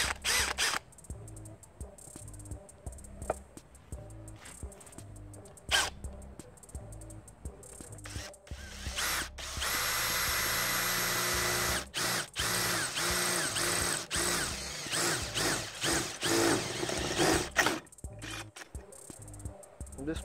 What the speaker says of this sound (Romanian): hai să vedem ce zice burgheul pentru metal